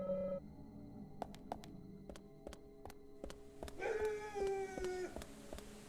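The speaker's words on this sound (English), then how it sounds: "Ah, dog noises." Dog noises from the horror video game Deadly Premonition, a whining, howling canine cry near the end set against sharp repeated ticking clicks and a low game ambience, with no talking.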